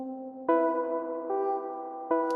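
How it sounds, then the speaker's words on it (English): Absynth 5 digital piano computer keys synth preset plays clean, sustained electric-piano chords, three struck notes each ringing with bright harmonics, alone and moderately loud. "the preset we're using is the Absynth 5 digital piano computer keys"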